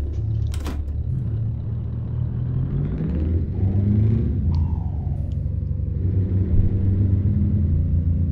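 In Euro Truck Simulator 2, a V8 truck engine starts with a short sharp crank and then settles into a steady low rumbling idle with a faint whir, close and continuous for several seconds, with no talk.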